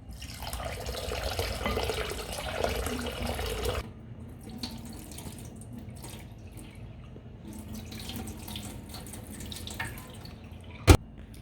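Tap water runs steadily over beef liver as it is washed in a sink for a few seconds, then gives way to quieter rinsing and handling sounds, ending with a single sharp clunk.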